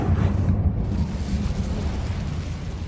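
A rumbling burst of flame from the Incendio fire spell in Hogwarts Legacy, a broad steady roar that holds loud and even for several seconds.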